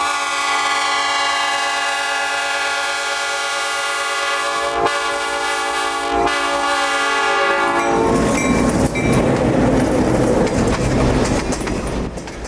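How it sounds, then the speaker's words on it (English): CF7204 locomotive crossing Dickey Road southbound sounds a mixed cast P5 horn, a loud sustained multi-note chord with brief breaks, then the rumble and clatter of the passing train takes over. "That arguably beautiful chord of notes that 204 is playing is coming from my mixed cast P5 horn"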